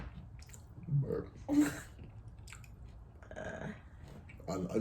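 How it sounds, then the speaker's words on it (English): A person who has just been eating tacos lets out a couple of short, close burps between soft chewing and mouth noises, in a quiet indoor setting with some faint voices. "Burp."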